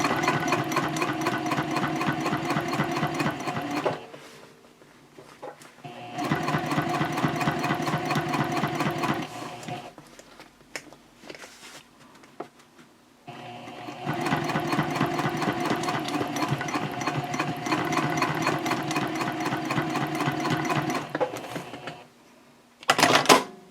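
A sewing machine runs a permanent seam across a handbag flap at a stitch length of about 3, in three long steady bursts of rapid stitching separated by quieter pauses with faint handling.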